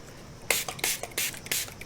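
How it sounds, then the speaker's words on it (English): A spray bottle spritzes water onto a watercolor painting in a quick run of about six short, sharp hissing bursts, close and crisp. "maybe move things around just a bit with my spray bottle"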